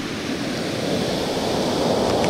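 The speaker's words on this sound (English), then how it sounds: "we're getting a lot heavier waves" Heavy ocean waves breaking on the shore at Marina, California: a continuous loud roar of surf with wind noise, close by and with no voices.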